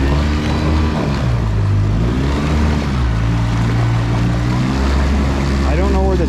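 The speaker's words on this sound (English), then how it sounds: "So that kicker motor runs fine." A small kicker outboard motor runs on a Bayrunner T-top boat, a steady droning engine hum with shifting pitch as the throttle changes, close and loud throughout, with a person talking over it at times.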